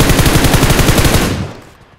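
A loud, rapid burst of automatic gunfire rattles out in PUBG Mobile, even shots hammering close together for over a second before fading away into quiet.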